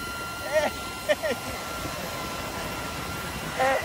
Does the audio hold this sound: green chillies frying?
no